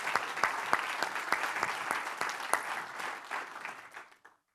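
An audience at an annual meeting and awards event applauding the bylaws committee, a brief round of scattered handclaps with distinct individual claps, fairly sparse, fading out toward the end.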